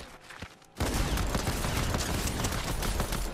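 Rapid bursts of gunfire from a shooter video game erupt suddenly after a brief quieter moment, then run loud and dense without a break, like sustained automatic fire in a close firefight.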